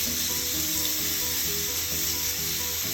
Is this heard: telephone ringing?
no